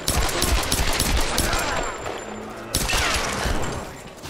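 Sustained gunfire in the Tomb Raider video game, a dense fusillade of rapid shots lasting throughout with a sharp burst midway, loud and close, with no talking.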